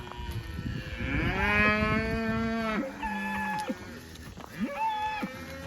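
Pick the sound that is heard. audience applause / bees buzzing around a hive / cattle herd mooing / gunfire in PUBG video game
cattle herd mooing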